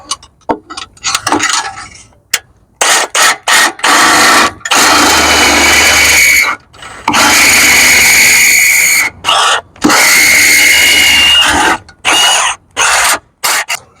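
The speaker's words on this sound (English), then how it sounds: "I think I'll just drill it a little bit more further, just in case it's not completely seated" A power drill seats a new engine mount on a Cadillac SRX with a 4.8 V8, running in repeated loud bursts, some brief taps and several longer sustained whirs, with short pauses between them.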